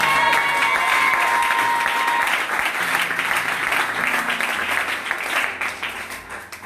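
Audience applause at a French-language sermon, sustained loud clapping from a crowd that fades slightly toward the end.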